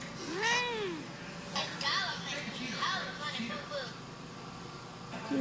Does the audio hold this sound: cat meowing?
yes